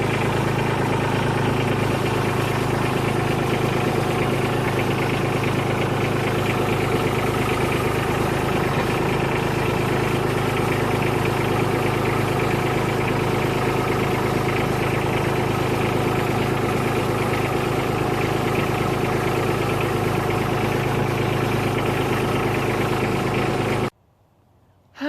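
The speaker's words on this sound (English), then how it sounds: "I'm hoping to just slowly drive the tractor forward" A tractor engine runs steadily while the tractor creeps slowly forward, a continuous loud mid-low drone with vibration that holds unchanged throughout before stopping suddenly at the end.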